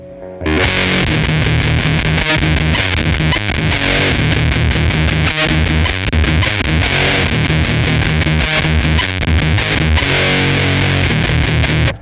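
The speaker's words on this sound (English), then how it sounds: "with the woodcutter at higher gain settings, it gives us this thing called sag" Electric guitar through a Behringer Woodcutter overdrive pedal at high gain, continuous heavily distorted chugging riffs with compressed, sagging low end, loud and close with no talking.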